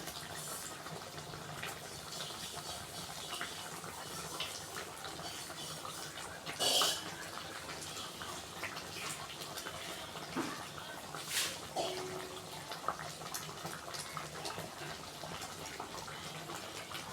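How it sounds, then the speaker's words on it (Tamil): Dried fish for karuvattu kulambu is washed by hand in water, making a steady wash of splashing and rubbing with a couple of louder sloshes, close and without talk. "1க்கு 2 வாட்டி தண்ணியை ஊற்றி மாற்றி மாற்றி நல்லா தேய்ச்சி கழுவி குழம்புல போடுங்க"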